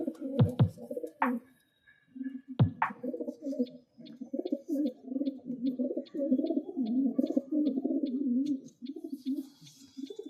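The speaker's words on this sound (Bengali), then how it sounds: "মেলটা একটা বিগ সাইজের মেল এটা মোটামুটি মিডিয়াম টু শর্ট ডিস্টেন্সের পায়রা" Calcutta bloodline pigeons coo in low, throaty rolling phrases close by. A few sharp wing flaps or knocks come early on, and faint chirps sound in the background.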